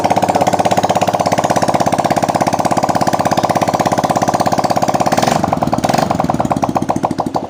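A Honda Vario 125 scooter engine, running rough with coolant mixed into the oil, idles steadily with a fast, even putter, then the rhythm shifts and roughens briefly near the end.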